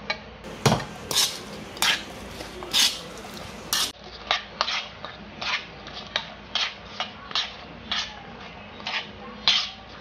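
A mushroom mixture stirred in a pan, with a spoon clacking and scraping against metal in a quick, uneven rhythm over a faint sizzle, close and fairly clear.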